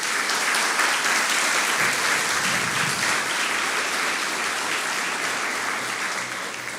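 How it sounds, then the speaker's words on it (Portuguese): A church congregation applauds in a dense, sustained wash of clapping that holds steady and loud from start to finish. "Vamos aplaudir ao Senhor Jesus."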